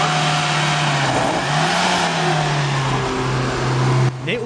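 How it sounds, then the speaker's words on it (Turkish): An old car, walled up in a room for 37 years, runs loud and close with a steady engine drone and some revving, then cuts off abruptly near the end. "Bir türlü çevirmeye kıyamadığı kontağı 37 yıl sonra çevirdi"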